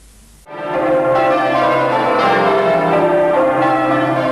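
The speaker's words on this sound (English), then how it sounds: "The bells of Beverly Minster." After a brief quiet start, the church bells of Beverley Minster burst in and ring continuously, loud and resonant, overlapping tones sustaining a full peal.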